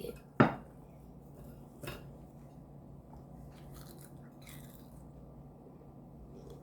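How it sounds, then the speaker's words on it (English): A crunchy bite into a hot Cheeto-crusted pork chop gives one sharp close crackle, followed by a softer second crunch and faint chewing in a quiet room. "Ooh, listen to that crunch."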